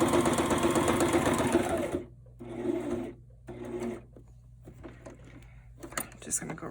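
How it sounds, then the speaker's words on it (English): A home sewing machine stitches a Christmas pocket project, running in a loud, rapid mechanical burst, then stopping and starting in shorter runs, with a person talking in between. "The sewing machine's been working great for me,"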